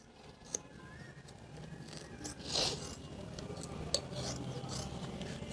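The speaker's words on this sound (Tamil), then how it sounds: "இந்த மாதிரி வச்சு பாதியாக வந்து வெட்டிக்கிறேன்." A tube being cut in half by hand while building a homemade cricket bowling machine, giving a quiet, steady rasping scrape with a couple of sharp clicks, close up and with no talking.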